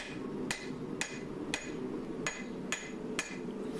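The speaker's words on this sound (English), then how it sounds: "I'm just forge welding it." Hammer blows on a nickel powder Damascus canister during forge welding for a twist Damascus hunting knife, seven evenly spaced sharp metallic strikes over a steady forge roar, close and alone.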